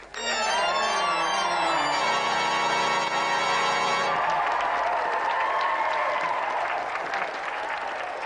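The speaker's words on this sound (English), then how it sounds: "round of applause for Tony" Sustained studio audience applause fills the space, loud and continuous, with a bright musical sting ringing over the first half before the clapping carries on alone.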